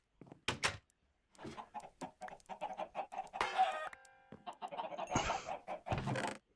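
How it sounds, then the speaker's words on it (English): Chickens in a barn on the game Magic Farm cluck in a busy run of short, choppy calls, close and fairly loud, with a sharp squawk and a couple of clatters mixed in. "So in the barn we got the chickens."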